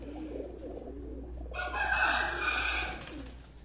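Rooftop pigeons and other birds call nearby, with a brighter burst of chirping and cooing rising midway over a steady low hum.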